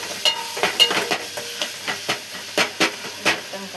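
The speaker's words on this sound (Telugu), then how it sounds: "మొత్తం కలిసేటట్టుగా కలుపుతాను" Chana dal chutney mixture being stirred in a pan, repeated scraping and tapping strokes in an irregular rhythm over a soft sizzling hiss, close and moderately loud.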